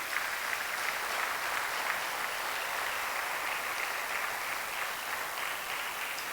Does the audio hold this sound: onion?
no